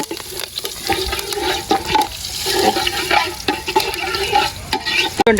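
Curry leaves hit hot oil for a fish curry and are stirred, producing a loud, busy sizzle broken by repeated scraping strokes of the spoon against the pan, close up and without talking.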